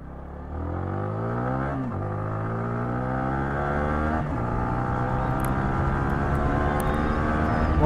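A Yamaha R15 V4 motorcycle engine revs up through the gears, with rising whine, brief dips at each shift, and steady loud acceleration and no talk.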